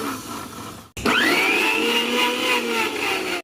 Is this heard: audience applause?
no